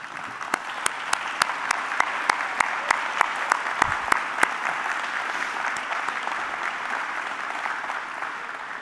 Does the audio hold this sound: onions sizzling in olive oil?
no